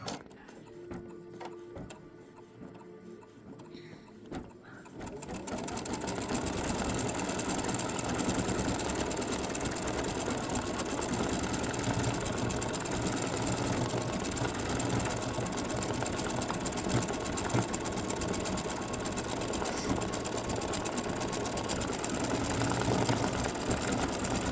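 A machine-embroidery sewing machine stitches the top of a Christmas ornament earring with silver thread, its fast steady mechanical whirr and clatter starting after about five seconds of quiet and running on evenly.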